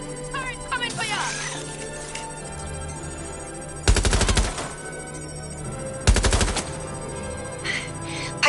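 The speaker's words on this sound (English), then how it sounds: "Turret coming for ya!" A turret in a PlayStation 5 shooter game fires two loud bursts of rapid gunfire, each lasting under a second, set against a steady in-game background drone with other faint effects.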